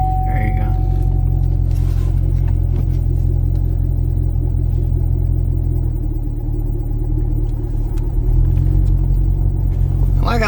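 Chevrolet SS Camaro with a manual transmission and aftermarket exhaust, driving along, giving a steady low engine and exhaust rumble that swells slightly toward the end, with faint background voice.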